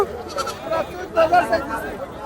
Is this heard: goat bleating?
yes